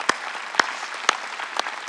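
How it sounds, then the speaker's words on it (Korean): A church congregation at a Sunday worship service claps in unison, four sharp, evenly spaced group claps over a soft background murmur. "깨달은 사람은 박수."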